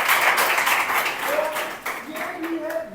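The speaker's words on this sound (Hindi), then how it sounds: "इसी शुभकामनाओं के साथ एक बार फिर से ताली हो जाए।" Audience at a ceremony honouring a student from Panna who joined the BSF gives a burst of clapping that tapers off, with a voice speaking over it near the end.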